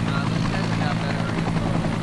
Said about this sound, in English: Helicopters called heli-torches are throwing fire at designated areas to create a line to stop the fire